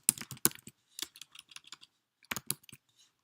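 Quick bursts of typing on a computer keyboard while entering an address into a map search bar, close and fairly quiet, with a pause in the middle before a final flurry of keystrokes.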